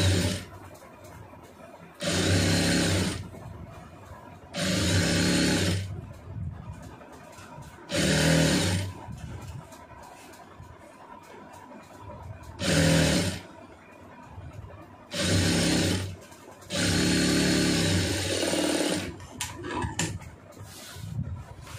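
Sewing machine stitching a lining blouse in bursts: seven loud runs of rapid needle whirring, each a second or two long, separated by quieter pauses with faint handling sounds.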